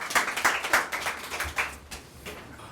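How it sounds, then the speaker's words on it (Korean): Scattered audience clapping at a lecture, a handful of hands beating in uneven bursts that thin out and fade toward the end. "뜨거운 박수 부탁드립니다"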